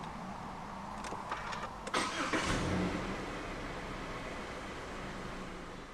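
A 2018 Subaru XV 2.0i-P AWD starts at the push of a button: a few soft clicks, then a brief cranking whir as the engine catches and settles into a quiet, steady idle.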